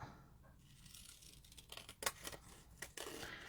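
Scissors trim a small paper tab for a handmade journal, a few close snips and light paper rustles that build toward the end, quiet and with no talking.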